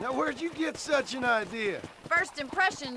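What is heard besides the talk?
No distinct noise like a dog, phone or traffic.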